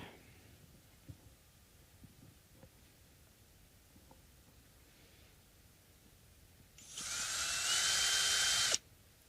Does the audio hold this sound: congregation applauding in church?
no